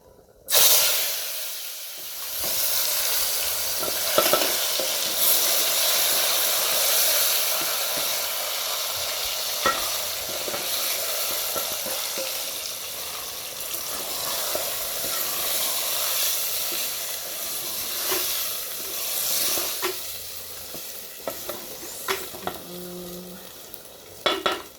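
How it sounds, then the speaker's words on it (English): White rice sizzling as it is stirred in a hot pan, a steady close frying hiss with scraping stir strokes that fades and returns near the end. "let me add in now our rice"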